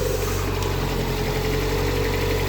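A Lada Priora engine idles steadily with a low, even hum and faint vibration, close by and continuous, with no talk over it.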